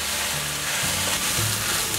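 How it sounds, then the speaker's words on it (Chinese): Green beans and leaves stir-fry in a hot wok, producing a loud, continuous crackling sizzle with faint low knocks of tossing, close up and without talk. "把泡叶炒软了"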